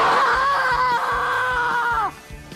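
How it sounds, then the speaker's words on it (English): A boy lets out a long, loud, high-pitched scream on request, held for about two seconds with a wavering pitch before cutting off, close to the listener. "Give me one of those screams."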